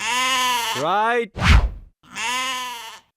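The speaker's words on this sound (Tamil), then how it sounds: "நான் நடிக்க போல, என் ஆடு தான் நடிக்க போகுது." A six-year-old goat at a comedy-film audition bleats twice, with long, loud, wavering cries close by. A dull thud falls between them, and a voice speaks briefly.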